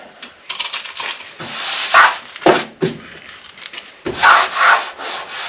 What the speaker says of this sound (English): Okay, so we get that sanded